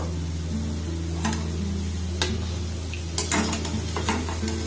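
Madan bhaja sweets frying in hot oil give a steady bubbling sizzle, punctuated by several sharp clinks and scrapes of a utensil stirring the pan, with a low constant hum beneath.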